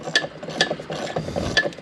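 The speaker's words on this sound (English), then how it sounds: "Okay, just got a deep well 1/4 inch socket. I'll loosen this up." A 1/4 inch deep-well socket on a ratchet loosens a hose clamp on a car's turbo charge tube, giving quick bursts of close, crisp ratcheting clicks with faint metallic rubbing between strokes.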